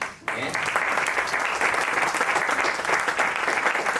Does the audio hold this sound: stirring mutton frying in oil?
no